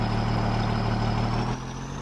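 A Bobcat Turbo 863 skid steer in the Farming Simulator game, its engine a steady, loud, droning hum with a continuous low tone that eases slightly toward the end.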